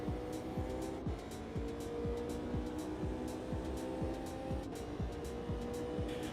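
A BMW race car engine in a sim racing game repeatedly revs and drops as it shifts through gears, with a regular sawtooth pattern of climbing pitch and quick falls, plus brief tire squeal, moderately loud and steady.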